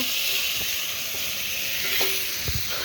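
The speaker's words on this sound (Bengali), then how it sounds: "এখানে দেখো ভাজা হচ্ছে বেগুন আলুটা" Eggplant and potatoes sizzle in hot oil with a steady crackling hiss, broken by a few soft clinks of stirring.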